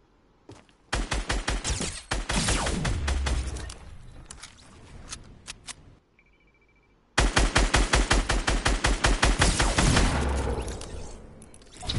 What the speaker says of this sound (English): Man, all scar shots.